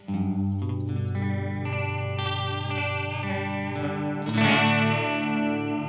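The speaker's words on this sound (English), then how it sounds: "the higher we take the intensity, the more warble we get in our chorus." A sustained, heavily processed guitar chord through a chorus pedal at full intensity wobbles with a deep, fast warble, thick and detuned, swelling brighter near the end.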